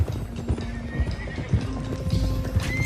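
Horses in Red Dead Redemption 2, including a loose stallion, whinny and neigh over a steady clip-clop of hooves, with the calls and hoofbeats close and fairly loud.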